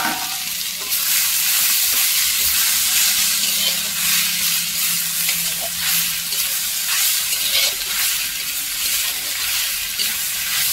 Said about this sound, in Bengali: এবার এতে শাকটা দিয়ে দেওয়া হলো।